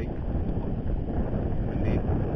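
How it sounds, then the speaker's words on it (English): Wind buffeting a microphone on a small fishing boat on open water, a continuous low rumbling roar with steady gusty pressure throughout. "Windy."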